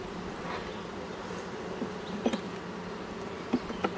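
Honeybees buzz steadily around hive frames of a honey-producing colony during the flow, a close, continuous drone with a few louder individual bees passing near and occasional light taps against the wood.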